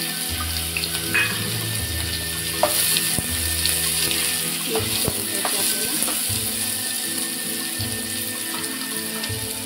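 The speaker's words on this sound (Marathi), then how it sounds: "आता यात टाकणार आपण कांदा। मी 2 मोठे कांदे चिरून घेतले आहेत।" Two large chopped onions frying in a pan for a Maharashtrian bharang leaf vegetable dish, giving a steady close sizzle with occasional clinks and stirring scrapes over a low background hum.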